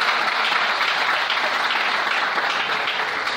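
A church congregation applauds and cheers for the Lord during a French-language sermon, a dense, steady wash of clapping sustained at even loudness throughout.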